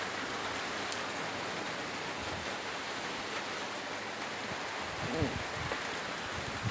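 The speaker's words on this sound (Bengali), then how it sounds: "ছাদে বৃষ্টি পড়তেছে অনেক সুন্দর" Steady rain falls on a house rooftop in Rajapur, a dense, continuous hiss that stays even throughout with no voices over it.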